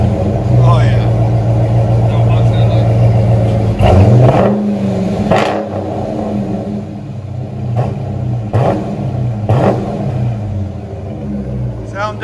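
Dodge Challenger 5.7L HEMI V8 with resonators deleted, replaced by 3-inch pipe, and active exhaust, idling with a deep rumble then blipped in several sharp loud revs, close by, with people talking over it.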